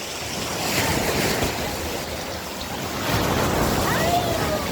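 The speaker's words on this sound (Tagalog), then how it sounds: "Ang lakas ng agos! Ng alon." Strong sea waves surge and wash against a rocky beach at Butas-Butas Beach in Mauban, Quezon, a steady loud roar of surf with gusts of wind buffeting the microphone throughout.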